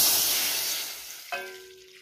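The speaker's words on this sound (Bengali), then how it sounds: "কড়ার মধ্যে জল দিয়ে দেবো" Water poured into a wok on a gas flame gives a loud hissing sizzle that fades, followed by a short clink of metal as the pour ends.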